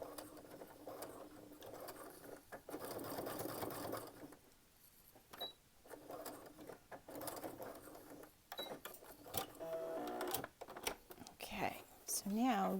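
A sewing machine stitching back over a seam on a wine bottle gift bag, its motor whirring in uneven bursts and stops, close, with a soft voice talking at points.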